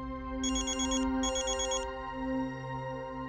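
A telephone rings in a domestic TV drama scene: two bursts of electronic trilling ringtone separated by a short gap, heard over a steady low background hum with no talk.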